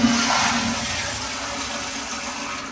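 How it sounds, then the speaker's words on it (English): A Sloan Flushmate pressure-assisted toilet flushes with a loud, forceful rushing whoosh that starts abruptly and then settles into a steady hiss of water, close by, with no talking. "So now just give it a test by flushing it, and make sure the Flushmate is full"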